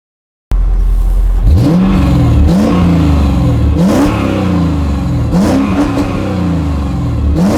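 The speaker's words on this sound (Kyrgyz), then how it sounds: "M113 деген мотор." Mercedes-Benz W210 E55 AMG with its M113 V8 engine revving repeatedly, loud and close, several rising and falling throttle blips in steady succession with no talk over it.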